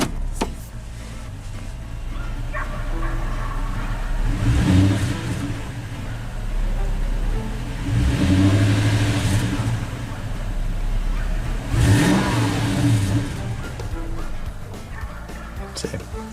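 A 2000 Toyota Tundra engine with a low idle problem runs cold and rough, surging in three revving bursts at about 4.5, 8 and 12 seconds before sagging back toward stalling, heard up close under steady background noise.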